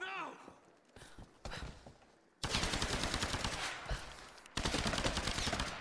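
Rapid automatic gunfire in Tomb Raider, loud bursts that start after a short gap and continue in dense rattling volleys, with brief shouting voices early on.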